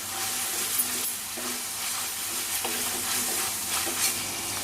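Loud, close frying sizzle of ginger garlic paste with regular scraping strokes of a spatula stirring the pan.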